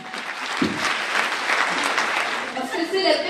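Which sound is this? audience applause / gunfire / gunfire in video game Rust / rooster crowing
audience applause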